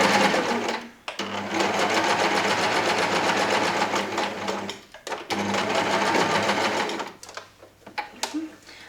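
Trousers are stitched on a sewing machine in loud, rapid bursts broken by short pauses, with a faint voice now and then between runs.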